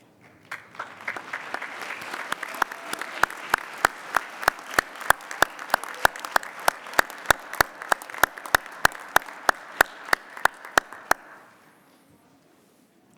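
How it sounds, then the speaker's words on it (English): Applause at a winter commencement ceremony, a large crowd clapping steadily for about eleven seconds with sharp nearby claps standing out, then fading away to near silence. "I invite you to stand and offer a round of applause for those who are here to witness your achievement today"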